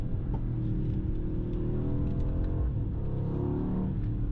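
The exhaust of a Mercedes GLE SUV drones steadily in the driving game Euro Truck Simulator 2. The engine tone is low and continuous, with slight rising sweeps as it revs and nothing else over it.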